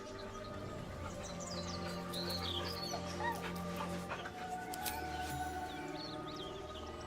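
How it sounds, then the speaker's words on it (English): A dog whimpers nervously in soft, high whines and a few yips, moderately close over a low steady background hum, with faint bird chirps mixed in. "The dog whimpers nervously,"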